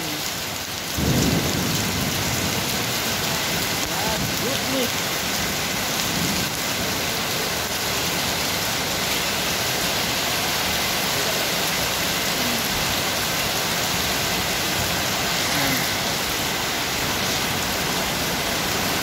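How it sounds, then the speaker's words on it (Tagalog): Heavy rain pours down in a dense, unbroken roar, with a low rumble near the start; a voice briefly exclaims once. "Natigil ang trabaho dahil malakas ang ulan."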